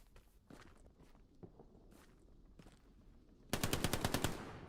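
Video game battle sounds with an MP40 submachine gun and a rifle: scattered footsteps and distant single shots, then a loud, rapid burst of automatic fire near the end.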